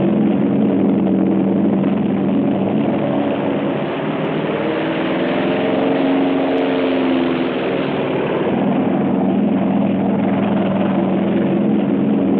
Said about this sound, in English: In the pre-dawn, the American carrier planes take off.